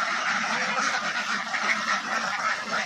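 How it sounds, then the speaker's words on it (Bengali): Flock of Khaki Campbell ducks quacking continuously before feeding time, a dense overlapping chorus of nasal calls held at steady loudness throughout. "এটা হচ্ছে যে অরিজিনাল খাকি ক্যাম্বেল হাঁস"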